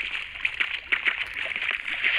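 Water sloshing and gurgling while a player swims underwater in the Minecraft video game, a steady washy churn at moderate level with faint speech.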